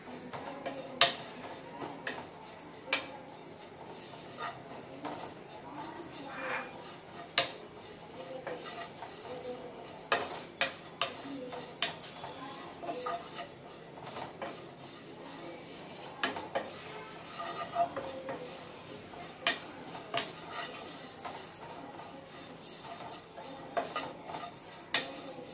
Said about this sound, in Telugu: ఆ చేంజ్ అయ్యే వరకు మనం 2 మినిట్స్ వేయించుకోవాలి